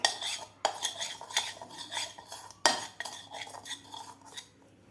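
A spoon scrapes and clinks against a pan while mixing turmeric, salt and masala for a paneer curry, in close, irregular strokes with two sharper knocks and no talk.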